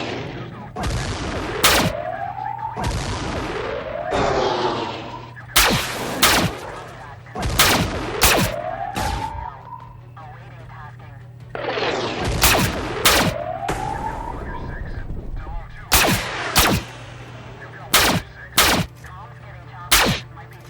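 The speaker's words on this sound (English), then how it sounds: "Although that missile is gonna hit us no matter what, I think." In the squad tactics game Xenonauts 2, a missile hits the squad. Sharp, loud blasts repeat in clusters, and rising whooshing tones sweep in before several of the impacts, over a constant low hum.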